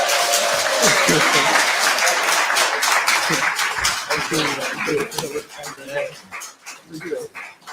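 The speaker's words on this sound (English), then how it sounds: "Everybody give him a round of applause." A theater audience applauds and whoops as the comedian Rickey Smiley is brought onstage, a dense, loud burst of clapping that thins into scattered claps and voices toward the end.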